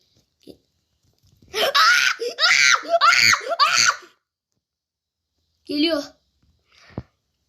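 A person screams in fright in loud, strained bursts across a couple of seconds, followed by a short further shout and a faint click, with quiet gaps in between.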